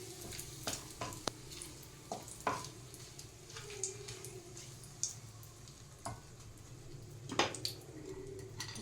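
Whole dried red chillies and a bay leaf frying in oil for a Bengali fish kalia, a low steady sizzle with scattered ticks and scrapes of a spoon stirring the pan, fairly faint and close.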